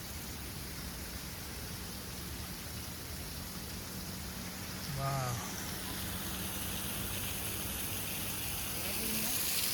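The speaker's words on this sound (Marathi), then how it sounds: "छान पाऊस चालू झाला आहे" Monsoon rain falling at Jummapatti waterfall makes a soft, even hiss throughout, while a voice speaks briefly midway.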